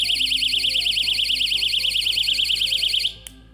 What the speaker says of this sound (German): Und aber auch halt ein Alarm, ich lasse ihn mal aus.